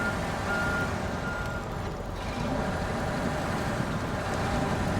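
A truck with a trailer reversing in the video game SnowRunner makes a loud, steady engine drone with a continuous beeping tone over it, constant throughout with no talking.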